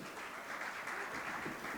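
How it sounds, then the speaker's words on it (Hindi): Audience at an Urdu poetry game event in Bhopal applauds the competing teams, a steady, faint wash of clapping heard from a distance without pause. "एक बार प्लीज़ इन टीमों के लिए तालियां बजाएं"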